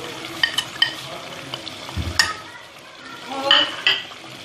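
Ginger chicken with yogurt cooks over high heat in a pan, giving a steady sizzle broken by repeated utensil clinks and scrapes against the cookware, with a louder stirring flurry toward the end.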